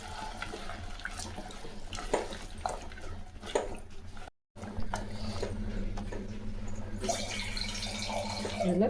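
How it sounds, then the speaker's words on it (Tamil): Tamarind water is poured into a pan while kara kuzhambu with small onions cooks, giving a steady wet splashing and running sound over a low background hum, briefly cut out partway through, with no talk. "இப்போ கொஞ்சம் புளி தண்ணி சேர்த்துக்கலாம்."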